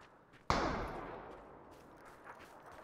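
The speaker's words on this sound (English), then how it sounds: "Nice, the bot's shooting at him now." A single sharp gunshot from a bot in a PUBG match, fairly faint and distant, with a lingering echoing tail and quiet background after it.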